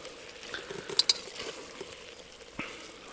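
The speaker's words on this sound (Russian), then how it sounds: "курица, лук и морковка на сливочном масле. Сейчас пускай все это обильно жарится." Chicken, onion and carrot fry in butter in a pan with a soft, steady sizzle and the occasional scrape or clink of stirring, quiet and close.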